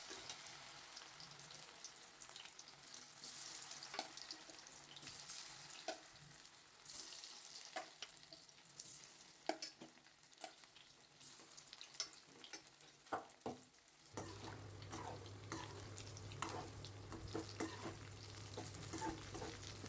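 Palak gobi fries in hot oil, a steady crackling sizzle with scattered pops and the clink of a utensil, quiet and continuous, joined near the end by a low electrical hum.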